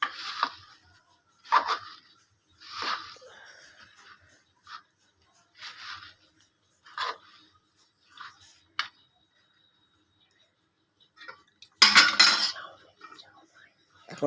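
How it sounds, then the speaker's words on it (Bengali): Jhal muri ingredients with boiled potato and chickpeas being mixed in a bowl: bursts of spoon scraping and clinking against the bowl, close by, separated by quiet pauses, with a louder clattering burst near the end. "এখনও মাখা হয়নি, ভালো করে তলপুর করে মেখে নিচ্ছি।"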